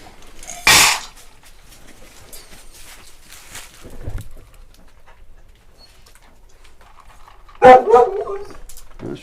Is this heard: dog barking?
yes